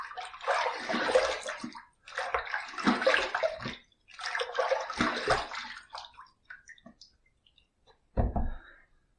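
Water splashes in three long bursts as a face is rinsed after a wet shave with soap, followed by a few quieter drips and one short final splash.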